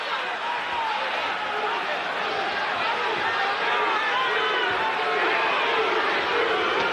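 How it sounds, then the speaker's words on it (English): A boxing arena crowd roars in a continuous, dense wash of voices while the fight goes on, and the chant for Duke is lost inside the steady roar. "Crowd chanting, Duke, Duke, Duke."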